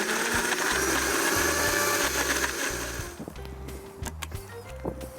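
A blender pureeing peppers with a little liquid runs at low speed with a steady whirring drone for about three seconds, then cuts out, leaving short knocks and clatter.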